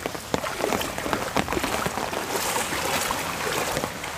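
Heavy monsoon rain pours down steadily onto a flooded lane in a village, with water running along the main road, a dense continuous hiss full of sharp drop impacts and no voices.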